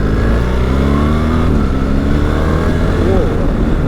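BMW R1300 GS ASA motorcycle engine pulling hard, a loud, close, continuous drone whose pitch dips and climbs as it shifts through the gears without a break, with wind rush underneath.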